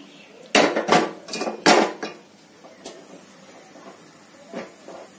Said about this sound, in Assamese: এখন একটা কুকার বসিয়ে দিলাম।